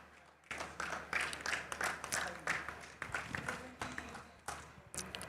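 A conference audience at a West African clean energy event applauds as a speaker walks to the stage, with rhythmic bursts of clapping sustained for several seconds before fading out.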